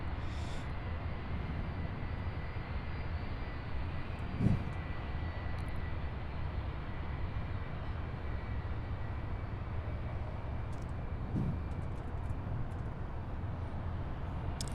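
UPS Boeing 757 freighter, first flown in 1997, producing a steady, broad jet engine rumble heard from a distance at an airport, with a couple of faint thumps over the continuous roar.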